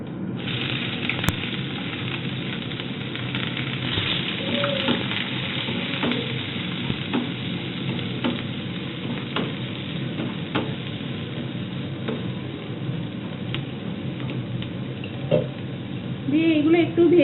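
Chopped onions with bay leaves, dried red chillies and spices sizzle and fry steadily in a pan for aloo biryani, with occasional stirring clinks and someone talking over it.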